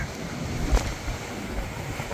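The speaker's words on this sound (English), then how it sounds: "Whoa, I'm getting gusts up here." Wind gusts buffet a mountain summit above Barcelona overlooking the Mediterranean, a broad continuous rushing roar with one sharper gust thump partway through.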